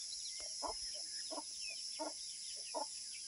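Roosters raised on an organic farm give short, evenly spaced calls, about four clear bursts, over a steady high insect-like hiss, with no talk.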